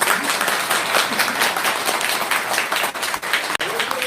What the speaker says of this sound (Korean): 우리 표창원 의원님께 박수.